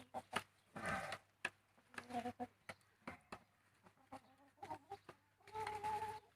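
Chickens cluck close by in short, irregular bursts, with a couple of louder squawking outbursts among quieter clucks, faint overall.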